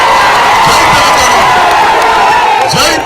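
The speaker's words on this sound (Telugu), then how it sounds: "గట్టిగా చప్పట్లతో బుద్ధి చెప్పండి." A large crowd at an election road show in Bhainsa claps and cheers loudly, a dense sustained roar of applause with whoops and shouts throughout.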